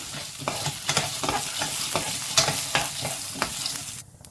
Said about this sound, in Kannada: ನೋಡಿ ಇಲ್ಲಿ ನಾನು ಕಡಲೆಬೇಳೆ ಹಾಕ್ಕೋತಾ ಇದ್ದೀನಿ ಹಾಗೆ ನಾವು ನೋಡಿ ಒಂದು ಸ್ವಲ್ಪ ಶೇಂಗಾ ಬೀಜ ಚೆನ್ನಾಗಿ ಮಿಕ್ಸ್ ಮಾಡ್ಕೊಳ್ಳಿ